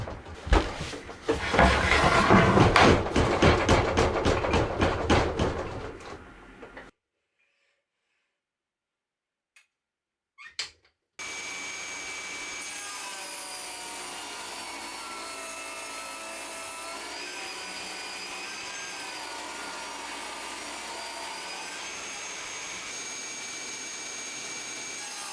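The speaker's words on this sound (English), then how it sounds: "I'm going to rip it down into 2 strips on the table saw" A table saw rips a wide board into two strips. There is a loud, dense cutting roar for about seven seconds, then a quiet pause and a faint knock, and then a steady whirring hum from the running machine.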